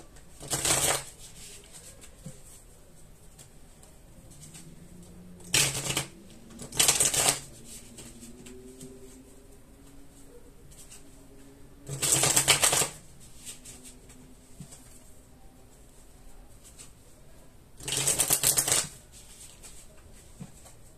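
Tarot cards being shuffled for a nine-card spread: five short riffling bursts, each about a second long, separated by quiet pauses, close and crisp against a hushed room.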